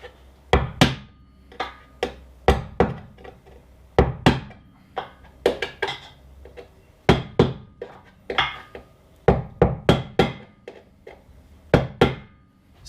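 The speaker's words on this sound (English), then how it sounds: "start hammering the metal back underneath that we bent back" Repeated sharp metallic hammer strikes on bent sheet metal of a Jeep Cherokee XJ rocker, irregular in rhythm, often in quick pairs or bursts, close and clear with no talking.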